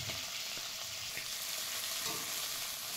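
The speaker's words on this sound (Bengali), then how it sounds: "এবার চিংড়ি মাছগুলো ভেজে নিচ্ছি তেলে।" Shrimp frying in hot oil, a steady dense sizzle with faint stirring clicks, close and continuous without any voices.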